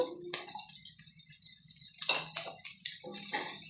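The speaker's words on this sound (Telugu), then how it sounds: "క్యారెట్ ముక్కలను కూడా కొద్దిసేపు ఈ నూనెలో వేయించుకున్నాము" Carrot pieces, added after beans, fry in hot oil for a vegetable fried rice. A bright hissing sizzle comes in close bursts, rising and falling over a few seconds with no voices.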